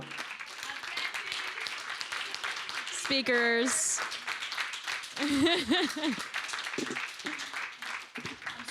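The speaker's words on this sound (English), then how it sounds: "Again, we continue clapping" An audience claps during closing remarks at a day-two event, the scattered applause running under and between people's talk and cheers, moderately loud throughout.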